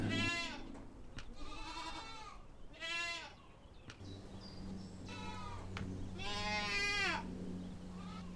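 Goats bleat repeatedly at a small goat dairy farm, several loud, close, wavering calls with short pauses between them over faint farmyard background.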